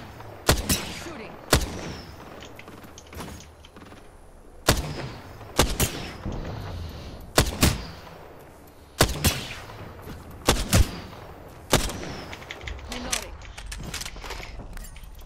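Gunfire in the video game Apex Legends: loud, sharp shots come in repeated bursts spread through the stretch, over a steady bed of in-game ambience and effects.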